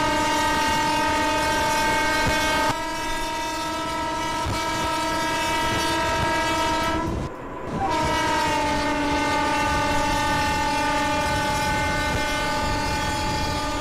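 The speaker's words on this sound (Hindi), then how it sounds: "उसके पहले एक बार हॉर्न नहीं बजा देते।" A Mumbai suburban local train, a Churchgate–Goregaon slow service nearing Mahim station, sounds a long, loud, steady multi-tone horn that holds for most of the stretch, breaking briefly once before resuming.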